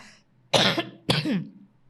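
Two loud, harsh coughs close to the microphone from a preacher during a Spanish-language sermon, the second trailing into a rasping throat sound, with near silence around them.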